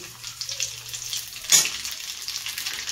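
Nigella seeds tip into dried red chillies frying in hot oil for a prawn bharta, a steady close sizzle flaring into a brief louder hiss as the seeds hit the pan.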